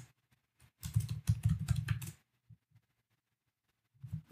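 A computer keyboard clatters as a terminal command is typed, with a quick burst of crisp keystrokes for about a second and a half, then a few isolated taps and a short final flurry.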